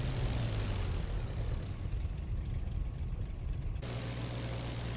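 Propeller aircraft engine idling and taxiing in the flight game IL-2 Flying Circus, a steady loud droning hum that shifts in tone partway through, no talk.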